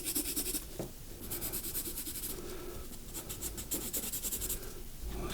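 Colored pencils scratching steadily across Hahnemühle paper while a horse drawing is shaded, with close, continuous rubbing strokes that come in quick repeated bursts, and no voices.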